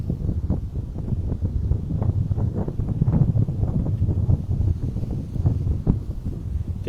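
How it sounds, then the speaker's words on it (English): Wind buffets the microphone on a walk toward the Magic Kingdom, a steady low rumbling gust that persists throughout with faint background noise and no talk. "It's quite a windy day."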